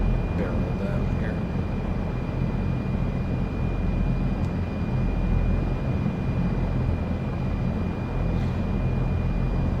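An airliner in Flight Simulator 2024 barrels down the runway from the start, a steady broad engine roar with a constant tone running through it, loud and unbroken for the whole stretch.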